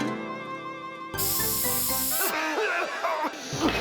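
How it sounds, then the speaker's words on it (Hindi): A can of mosquito-killing insecticide sprays in one loud hissing burst of about a second, set against a tonal cartoon music background, with no speech. "ये मच्छर मारने वाला स्प्रे है"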